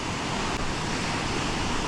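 Ocean surf washes steadily onto a fishing beach near a rip current, a continuous broadband roar of waves with wind mixed in, loud and unbroken throughout.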